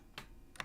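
Two quick keystrokes on a computer keyboard, a sharp click near the start and another near the end, close and moderately quiet against low room noise.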